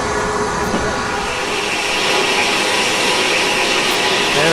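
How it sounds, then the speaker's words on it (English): Double-headed steam train on the Bluebell Railway, locomotives Eddystone and Wadebridge working together, a dense continuous roar of engines and rolling carriages, loud and near, with a faint voice underneath. "There's a double-headed train again, Eddystone and Wadebridge together this time."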